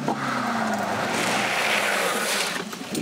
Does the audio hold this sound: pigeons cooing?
no